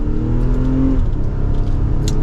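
2023 Nissan Pathfinder Platinum pulling away in manually selected second gear, with an engine hum that climbs briefly, then settles into a steady drone heard from inside the cabin.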